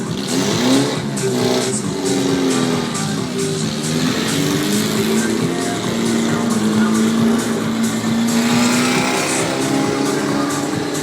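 Stunt cars performing driving stunts pass by with loud, sustained engine roar and shifting revs, close and continuous for several seconds, with faint tire noise.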